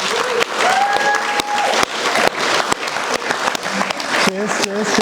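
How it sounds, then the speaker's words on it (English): Audience applause fills a London talk and Q&A session, dense clapping running steadily under a few whistles and voices, with brief gaps and a speaking voice near the end. "Can we all give them a round of applause?"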